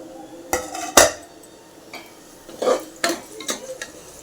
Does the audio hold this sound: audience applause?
no